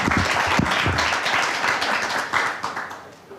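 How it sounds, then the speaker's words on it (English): An audience applauds panelists at a program's close: dense, sustained clapping from a crowd, loud and steady before tapering slightly near the end, with a few low voice murmurs early on. "please everybody give a big round of applause to our panelists today"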